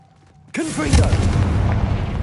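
Confringo fire-blast spell in Hogwarts Legacy erupts after a brief quiet lead-in as a sudden loud, booming burst, followed by a sustained roaring, crackling rumble that lingers close and heavy.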